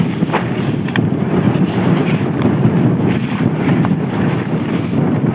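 Wind gusting across an open volcanic lava field, a steady loud broadband roar with low buffeting rumble on the microphone that continues throughout.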